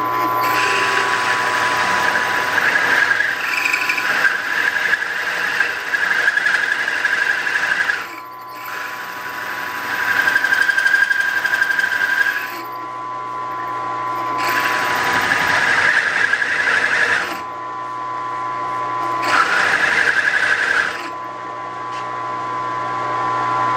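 A saw cuts through metal with coolant applied, giving a steady high mechanical whine with a squealing edge. It drops out briefly several times at regular intervals before resuming at the same pitch.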